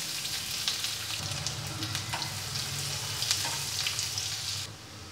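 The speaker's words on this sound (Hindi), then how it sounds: "ये प्याज भी डाल के हमको लाइट ब्राउन होने तक भूनना है।" Onions with cumin seeds and bay leaf fry in hot oil for chole masala, a steady loud sizzle with occasional stirring scrapes and crackles throughout.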